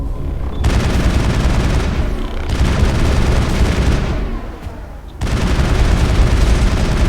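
Sustained automatic weapon fire during a fight against Geth in Mass Effect on Feros, loud and rapid, in long continuous bursts that break off briefly before resuming.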